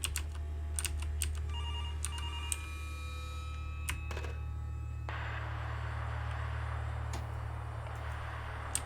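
An electronic phone ring in Garry's Mod trills in quick bursts over a steady low hum, with faint clicking alongside, then continues with hiss in the background.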